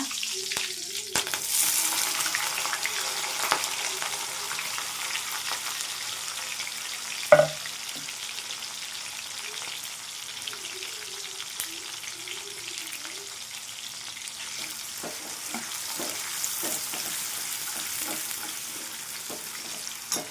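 Cumin, mustard seeds, curry leaves and onion frying in hot oil in a home kitchen, a soft continuous sizzle with occasional stirring scrapes and one sharp clink near the middle, fairly quiet and close.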